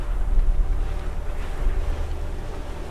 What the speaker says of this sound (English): A gentle wind was blowing from the west